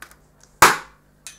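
A party popper goes off with a single sharp crack that fades quickly, followed by a faint small click; a few quiet taps precede it.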